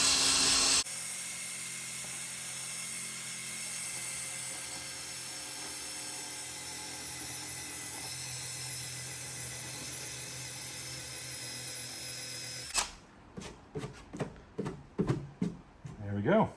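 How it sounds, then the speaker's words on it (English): Rubber caramel eraser wheel spun by a drill, stripping adhesive off BMW F87 M2 trim, a faint steady whirring grind that runs for about twelve seconds, then stops and gives way to sharp scraping and clatter. "that's stripping it right back."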